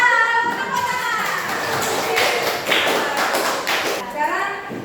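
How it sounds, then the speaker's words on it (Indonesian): Children clapping together in a classroom, a burst of quick, sharp claps swelling in the middle, with a teacher's voice speaking before and after. "Tepuk tangan."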